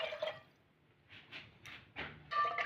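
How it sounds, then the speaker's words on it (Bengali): Water splashes into pigeon pea dal in a pressure cooker pot, coming as short, close bursts of pouring with brief pauses between them. "এখানে আমি 4 বাটি জল দিলাম।"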